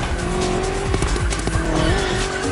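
BMW M CS racing in The Crew Motorfest, engine droning loud and close with squealing tires and skidding throughout, steady and continuous.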